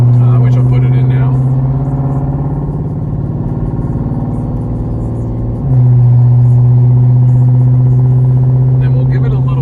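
A Dodge Scat 392 V8 in sport mode accelerates hard on an open road, a loud, close engine drone that holds steady, then a sharp shift and a deeper, stronger rumble as it pulls on.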